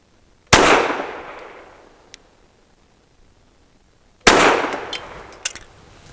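Two sharp handgun shots fire subsonic bullets at a steel target, one at the start and one near the end of a quiet gap. Each is a loud crack and metallic ring that decays slowly, with faint small clinks in between.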